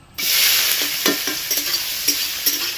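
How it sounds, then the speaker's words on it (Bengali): Prawns dropped into hot oil set off a sudden loud sizzle that continues steadily up close, with several light scrapes and taps as they are moved around the pan. "দেখো তেলটা গরম হয়ে গেছে, এবার চিংড়িগুলোকে ভেজে নেব"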